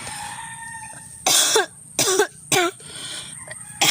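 Three sharp, loud coughs spaced about a second apart, close to the listener, over a quiet hissing background.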